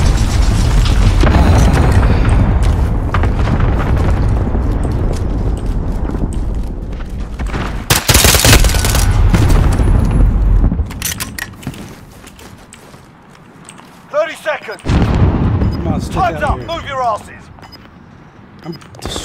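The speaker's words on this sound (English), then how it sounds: "Enemy cluster strike incoming." Cluster strike explosions in Call of Duty Modern Warfare, a series of loud booming blasts rolling over gameplay noise, followed by sharper bursts and scattered pops as players talk.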